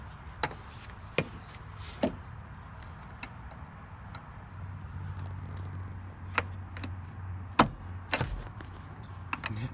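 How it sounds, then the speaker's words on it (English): A seat belt latch plate is pushed at the buckle in a Volvo S60, giving a few sharp, close plastic-and-metal clicks and rattles spread over quiet cabin background, with no talking. "Now I should be able to get my seatbelt in."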